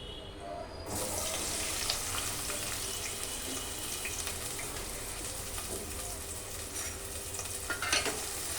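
Onions and green chillies frying in hot oil in a pan for chicken curry, a steady loud sizzle throughout with occasional stirring scrapes and no talk.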